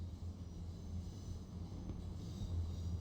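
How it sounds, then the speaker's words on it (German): In the SimRail railway game, a train rolls through a level crossing as a low, steady rumble heard faintly in the background from a signal box, continuous and without distinct clatter. "da kommt jetzt hier der Zug durchgefahren"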